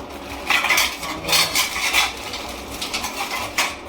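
A small metal mini idli maker with three plates is handled up close, its plates clinking and rattling in a busy, irregular run of bright metallic knocks and scrapes.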